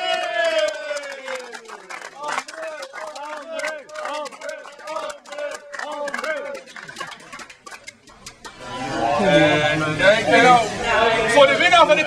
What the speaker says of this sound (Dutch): Een speciaal applaus voor André de Groot